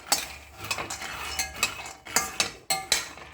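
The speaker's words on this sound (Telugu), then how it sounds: "మధ్యలో మధ్యలో కలుపుతూ ఉండాలి, లేదంటే కింద మాడిపోతాయి" A spoon scrapes and clinks against a pan as sesame seeds are stirred while roasting, in close, irregular strokes with short pauses.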